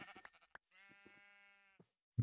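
A Minecraft sheep bleats once with a long, wavering nasal call, framed by soft footstep-like taps and small game noises before and a louder thump at the end.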